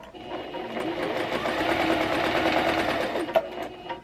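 A sewing machine with a general purpose foot stitching a straight stitch after cleaning and servicing, a fast continuous mechanical whirring chatter, steady and close, with no talk.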